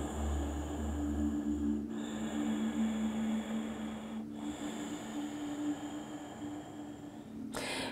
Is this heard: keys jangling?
no